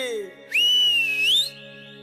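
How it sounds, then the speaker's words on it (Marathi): A single loud, clear whistle blast during Free Fire gameplay rises quickly and holds a wavering high tone for about a second before cutting off, after a brief low sliding tone. "शिट्टी वाजली"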